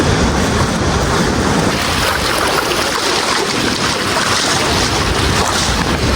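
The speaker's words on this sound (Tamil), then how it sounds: "இப்போ பாருங்க எவ்வளோ பெரிய அலை வருதுன்னு" Large ocean waves surge and break on a beach near Chennai, India, a loud continuous roar of surf and rushing water with gusty wind buffeting the microphone throughout, no voices over it.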